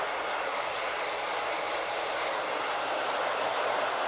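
A hair dryer on medium heat drying a hair topper, producing a steady, close, even roar that never stops or changes throughout.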